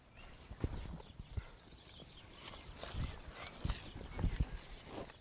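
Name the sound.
horse hooves clip-clopping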